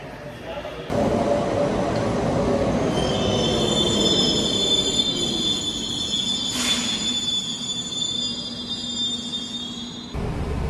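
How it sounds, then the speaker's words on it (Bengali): A Kolkata metro train arrives and runs through the station on its line toward Noapara, Dum Dum Cantonment and Jai Hind, with steady loud rumble and high, sustained wheel squeal for most of the stretch, starting abruptly and easing near the end. "আসবে মেট্রো, আমি তো এখন ওয়েট করি একটু কিছুক্ষণ।"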